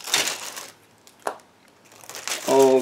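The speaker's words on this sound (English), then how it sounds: "last plastic bag carries mix of different screws. I will open it in a second." Plastic bag holding mixed screws is opened with crisp crinkling and a sharp tearing rip, close and fairly quiet, followed by a short stretch of speech.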